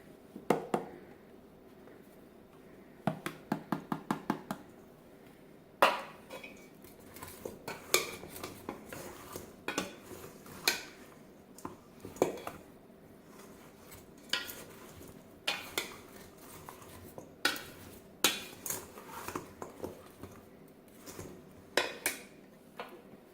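A utensil stirs seasonings into potato wedges in a bowl, giving irregular clinks and scrapes that come in clusters, with quiet pauses between them and no talking.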